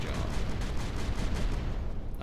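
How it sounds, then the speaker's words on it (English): Cannons aboard a capital ship in the space strategy game Final Theory pound away in a rapid, thudding barrage. The deep booms stay loud and continuous throughout. "And the cannons will finish the job."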